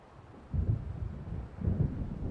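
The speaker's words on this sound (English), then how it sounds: "It seems there's a storm coming." Thunder from an approaching storm in the video game Alan Wake, heard as two deep, muffled rolling rumbles over a quiet background, the second following about a second after the first.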